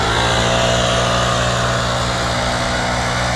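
A lawn mower runs steadily while cutting grass on a hillside, a constant loud engine drone with a rough low-pitched throb and no pauses, close by.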